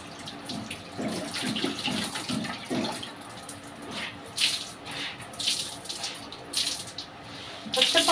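Water splashes and runs close by while clothes are swished and rinsed, the sloshing rising and falling in uneven bursts.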